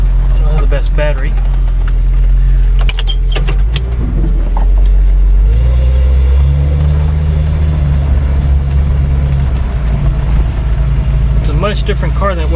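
A 1976 Datsun 280Z engine drones loudly with a heavy, rumbling exhaust throughout, low and close, with a person talking over it.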